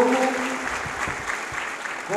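An audience at a political party meeting applauds as delegation members stand, steady clapping from a crowd in a hall with voices mixed in, lasting about two seconds.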